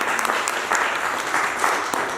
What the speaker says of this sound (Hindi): तो एक बार जोरदार तालियां उसी चतुर्वेदी के लिए।